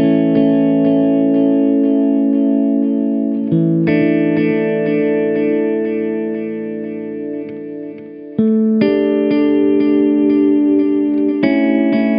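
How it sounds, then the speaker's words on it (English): A Catalinbread Belle Epoch Deluxe delay pedal in Echoplex tape mode repeats sustained guitar chords with a warbling, wavering tape echo, loud and up close, the chords changing every few seconds and fading briefly before a fresh strum. "Echoplex mode, and the depth knob adjusts the amount of tape warble"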